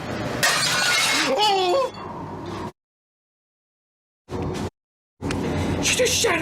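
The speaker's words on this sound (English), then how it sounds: "She just shattered into a million pieces." Something shattering into a million pieces in a tense, dark setting: a loud sharp crash with scattering debris mixed with voices, followed by abrupt silence and brief bursts of noise and exclaiming voices.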